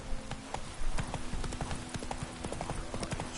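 Roach, the horse in The Witcher 3: Wild Hunt, gallops with a steady rapid clip-clop of hooves, close and clear over a faint background hum.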